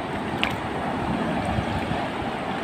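Sea waves washing on an island shore, a steady broadband rush of surf with wind noise, continuous and fairly close, with no voices.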